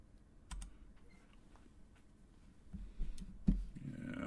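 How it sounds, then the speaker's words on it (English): Hard typing on a computer keyboard at a workbench where a TL866 programmer is testing logic chips, with scattered clacks building to a few louder, denser keystrokes near the end, close and faint with no speech. "Hard typing around the camera."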